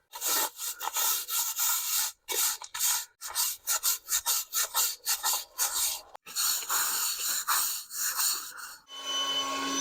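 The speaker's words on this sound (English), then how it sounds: "We're gonna use hard bristle broom to remove the debris" A hard bristle broom scrubs loose debris off an asphalt surface during a sunken-asphalt patch job, giving a steady run of close, raspy strokes with brief pauses and a different steady hiss at the very end.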